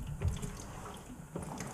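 Water gushing and splashing out of a kitchen sink drain after something is tipped over, a brief wet burble with a few splashy surges.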